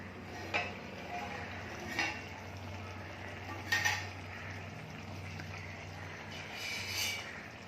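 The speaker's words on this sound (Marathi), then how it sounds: "तर आता मी झाकण काढते" Metal lid lifted off a cooking pot of broad bean (val) usal with potatoes, a few light clinks and scrapes spread over a quiet kitchen background with a low steady hum.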